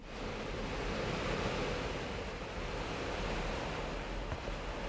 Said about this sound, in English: Let's listen to the sound of denim.